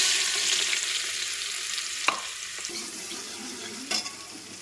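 Refined oil sizzles steadily in a pressure cooker on a home stove, a continuous bright hiss with a couple of sharp clinks of utensil against metal.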